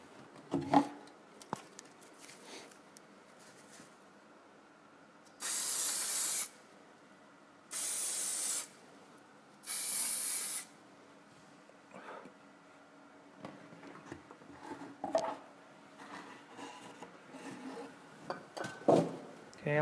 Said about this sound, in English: add some anti-reflex spray on the glass